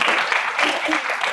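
Audience applause at an evening puja program, a steady dense wash of clapping from a crowd filling the whole moment at even loudness.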